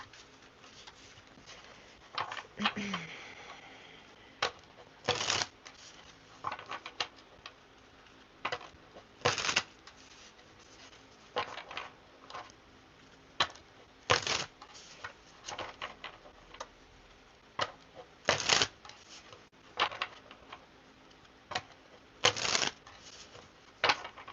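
A deck of cards is shuffled again and again, short crisp riffle bursts repeating every second or two, close and fairly quiet against a hushed room.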